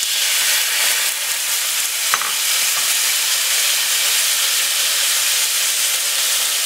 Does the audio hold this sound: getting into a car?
no